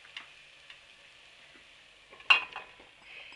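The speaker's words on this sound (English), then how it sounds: "we're just going to stir that round for a minute or two" Rice and chopped mushrooms stirred into softened onion in a pan for a mushroom pilau: a faint low sizzle with sparse scraping ticks, then a louder clatter of spoon against pan near the end.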